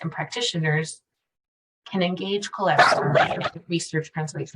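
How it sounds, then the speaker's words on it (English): A dog barks a few times in a home while someone keeps speaking through an online presentation, the barks mixed in with and partly under the voice. "I apologize for the dog."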